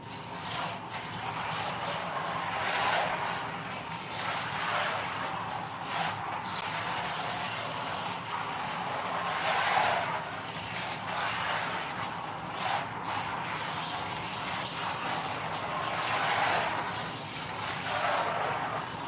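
An RC micro drift car on a Crazy Drift chassis running steadily, with a continuous whirring motor hum and faint tire scuffs that swell and fade as it slides around, quiet and without talk.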